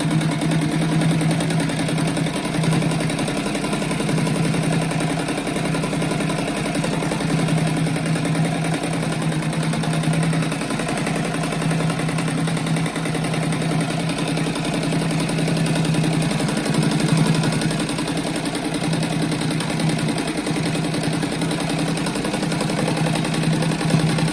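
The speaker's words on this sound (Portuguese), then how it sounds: "Agora eu vou passar a costura em cima da costura que eu costurei o bico ali" A sewing machine stitches over a seam on a soft children's rug, a continuous close motor hum with a steady needle rhythm running unbroken throughout.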